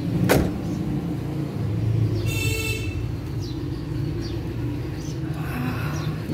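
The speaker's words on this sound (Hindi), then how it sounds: "इतनी ज़्यादा हीट है, तो पहले शीशे नीचे कर लें।" Power windows hum down on a car parked in hot weather, a short whirring motor sound heard over a steady low engine idle, faint and near.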